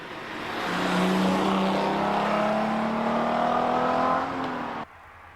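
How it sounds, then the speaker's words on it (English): An Alfa Romeo V6 car engine revs up and holds a smooth, rising drone for several seconds before cutting off abruptly. "Orally, my favourite engine is Alfa's V6."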